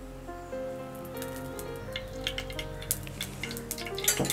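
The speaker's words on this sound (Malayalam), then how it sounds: "ചട്ടി നല്ലവണ്ണം ചൂടായിട്ട് നമുക്ക് എണ്ണ ഒഴിക്കാം" Oil hitting a hot pan while making mango curry, a soft steady sizzle with faint crackles building toward the end over a low background hum and tonal ringing.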